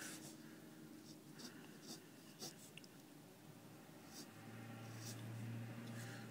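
Pencil or pen sketching a female figure's body outline on paper, a steady soft scratchy rasp of strokes running throughout, close and fairly quiet, with a low hum beneath.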